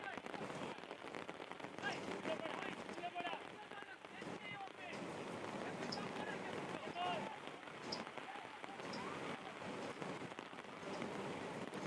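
Rain falling over an outdoor youth soccer match, a steady faint patter and hiss of drops under continuous talk from a commentator, with the noise of the field in the background.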